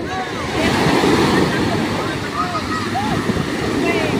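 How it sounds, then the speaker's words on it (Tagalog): Sea waves washing ashore with a steady roar, wind buffeting the microphone, and faint bird-like chirps and distant voices in the background. "Alon."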